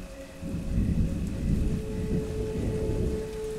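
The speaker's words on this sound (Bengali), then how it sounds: "চারিদিক ঘোর কালো অন্ধকার করে ঝমঝমিয়ে বৃষ্টি নামল" Heavy rain pours steadily while low thunder rumbles through a dark stormy evening, a dense continuous downpour with rolling booms swelling and fading, loud and close with no voices.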